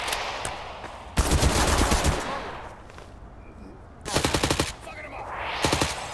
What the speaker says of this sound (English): Shoot through that fucking cover.